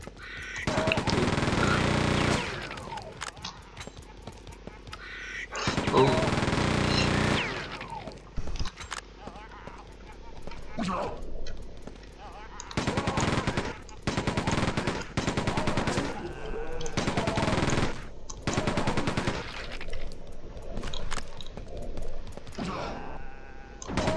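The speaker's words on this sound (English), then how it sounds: "The machine gun." Rapid machine gun bursts from Quake II gameplay at the main gate of the correction center, repeated volleys loud and close, with other game sounds between bursts and talk over the action.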